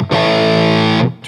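Electric guitar through a Providence Stampede DT distortion pedal with the bass knob set halfway, one loud saturated chord struck and held about a second before being cut off, close and alone.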